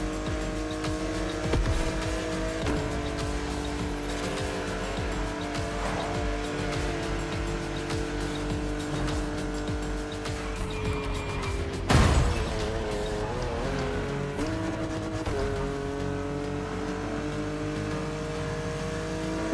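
A Porsche 911 GT3 Cup race car in The Crew Motorfest video game drives on a track, engine droning steadily with gear shifts and tire squeal and a sharp burst near the middle.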